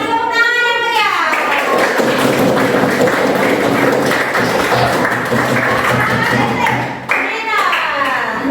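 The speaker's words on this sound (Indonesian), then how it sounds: "kita kasih tepuk tangan yang meriah" Loud, sustained audience applause at an Indonesian teaching-competition event, dense clapping filling several seconds with voices speaking briefly at the start and end.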